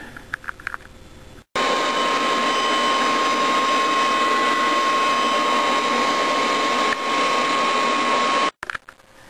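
An older Kirby Dual Sanitronic vacuum cleaner fitted with a Lexan fan runs steadily at close range, a loud continuous whine with a sharp, even tone. The sound switches on abruptly and cuts off near the end, with no talking.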